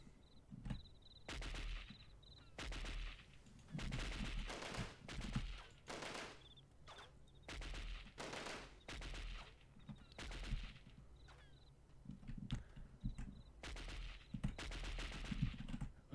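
Bursts of gunfire from the 1998 video game Delta Force, repeated volleys of sharp shots and rapid automatic fire scattered across the scene with short gaps between them, no talking.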